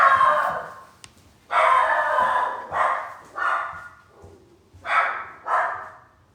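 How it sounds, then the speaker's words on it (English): A dog barks in separate bursts, about six or seven loud barks with short pauses between them, close by. "What are you barking at?"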